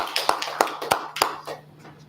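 A few people at a Toastmasters club meeting give a short round of applause, a handful of separate, fairly sharp claps at an uneven pace that thin out and fade within two seconds.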